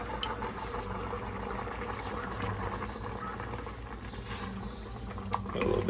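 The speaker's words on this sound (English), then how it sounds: "the broth though is boiling" Broth boiling in a pot for homemade rice and chicken soup gives a steady bubbling, sloshing churn at moderate level, with a brief clatter near the end.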